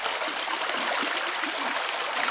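Water pours steadily over a beaver dam into a river, a continuous broadband rushing with soft gurgles, moderately close and even in level, with no voices.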